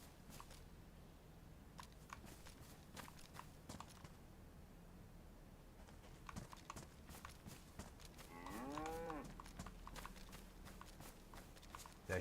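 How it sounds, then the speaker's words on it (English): Cow in the survival video game DayZ gives one low, drawn-out moo partway through, faint and somewhat distant, amid quiet outdoor ambience with scattered clicks and soft footsteps. "Now, there is a cow spawn in here."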